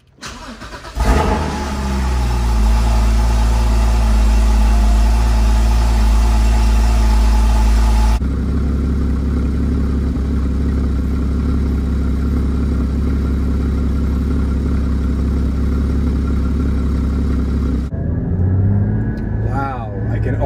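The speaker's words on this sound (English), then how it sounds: "Let's find out how that Stage 1 map feels on the Porsche 981 Cayman" A Porsche 981 Cayman GT4 running a Stage 1 engine map fires up and settles into a loud, steady, close idle with a deep rumble, shifts tone partway through, and eases off near the end.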